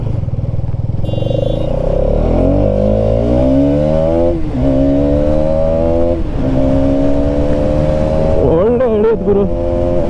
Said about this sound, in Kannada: ಸ್ಟಾಕಲ್ಲಿ ಒಂಥರ ಇಂಜಿನ್ ಸೌಂಡಿಗೂ ಎಕ್ಸಾಸ್ಟ್ ಸೌಂಡಿಗೂ ಒಳ್ಳೆ ಸೌಂಡ್ ಮ್ಯಾಚ್ ಆಗುತ್ತೆ